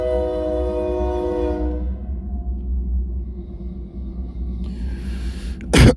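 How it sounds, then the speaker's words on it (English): A train rumbles steadily past, its long horn blaring with strong harmonic tones for the first couple of seconds, then the low rolling rail noise continues, ending with a brief loud clattering burst. "Salakia, let the train pass by"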